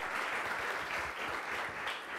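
A crowd applauds continuously at a live pitch event, a soft, steady wash of many hands clapping heard at a moderate distance.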